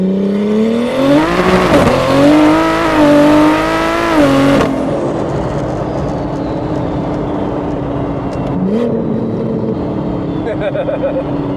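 A tuned BMW M140i accelerates hard in second gear, its engine revving high and loud with a rising, harmonic roar. It then settles into a steady drone while voices talk over it.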